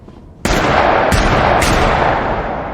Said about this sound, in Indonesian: Charlie mulai dilatih menembak, tetapi rupanya tembakannya selalu meleset